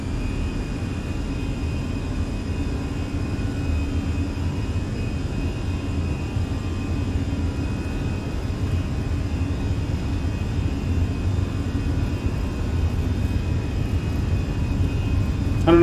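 Airliner engines roar at takeoff power in Microsoft Flight Simulator on a Lufthansa flight departing EKCH, a loud, steady, continuous drone with no one talking.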